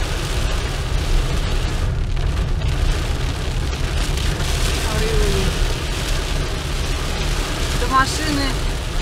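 Heavy rain pouring down outside a car in Moscow while the wipers struggle, a loud, constant rushing roar with low rumble; someone talks over it throughout.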